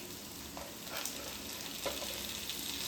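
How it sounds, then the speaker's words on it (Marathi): Chopped tomato added to browned onion in a pan, giving a steady close sizzle and crackle of frying with a few faint stirring scrapes, no speech. "आता आपल्याला चॉप केलेलं टोमॅटो ॲड करून घ्यायचं आहे"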